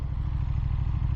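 A 2024 KTM 1390 Super Duke R EVO motorcycle engine runs loud and close, a deep rapid pulsing throb with rough clattering texture, steady throughout.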